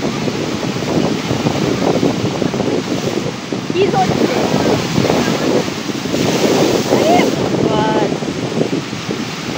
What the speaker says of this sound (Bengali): ঢেউ, অপূর্ব ঢেউ, ঢেউগুলো ওখানে ভাঙছে।